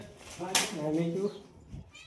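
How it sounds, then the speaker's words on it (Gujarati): A cat gives a drawn-out meow, close and moderately loud, with a faint background murmur. "આપણે જોવા અહીંયા ઘેરે બિલાડો જોવા મળ્યો"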